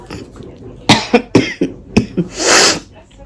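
A woman who is still recovering from illness coughs five or six times in a close, sharp, uneven burst, followed by a longer breathy exhale.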